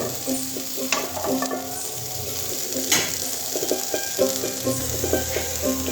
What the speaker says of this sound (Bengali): আমি যেটার মধ্যে মাংসগুলো ভেজেছিলাম ওইটার মধ্যে আবার মাংসগুলো নামিয়ে নেব।